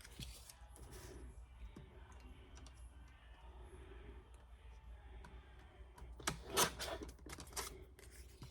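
Scissors snip scrap paper, a quiet run of soft clicks followed by a few louder, sharper cuts close by near the end.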